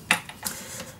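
A We R Memory Keepers premium paper cutter slicing through paper, giving a quick series of light clicks and scraping ticks as the blade runs along, close and fairly quiet.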